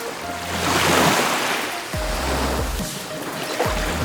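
Ocean surf rolls and breaks at a beach where surfers help a disabled man in a wheelchair ride the waves, a steady close wash of water with low thumps of waves landing.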